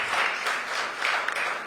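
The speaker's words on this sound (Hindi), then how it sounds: "तो बहुत तालियों से स्वागत करिए इन तीनों का।" Audience applause greeting three guests at a youth conclave, a dense, even roar of clapping from a crowd that swells slightly in places over a short burst.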